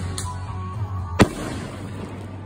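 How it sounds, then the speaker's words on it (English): Fireworks on the Fourth of July: a single sharp bang bursts out mid-clip over a low steady hum, with a fainter pop just before it. "We got like a concoction of trash and fireworks."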